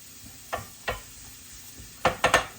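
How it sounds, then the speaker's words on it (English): Onions browning in a pan for stuffing, with a low sizzle underneath while a mixing spoon scrapes and stirs in two single strokes, then a quick burst of three, close-up and free of talk. "I like to brown the onions a little bit first, so that they get a little bit brown there with my mixing spoon"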